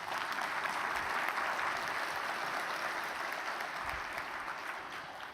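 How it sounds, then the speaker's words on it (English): Sustained audience applause fills a hall at a Knight Foundation First Amendment community event in Pittsburgh, dense and steady throughout and easing off slightly toward the end, with no talk over it. "if you would give them a round of applause."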